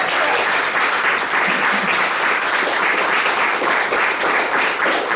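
Dense, steady applause from a large congregation at a Muslim temple gathering, many hands clapping together at full volume without a break for about five seconds.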